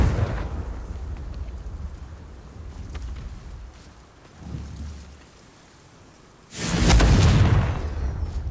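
A Confringo fire-spell explosion in the Hogwarts Legacy video game: low rumbles roll beneath a quiet stretch, then a sudden loud blast hits and leaves a long, heavy roaring tail that fades slowly.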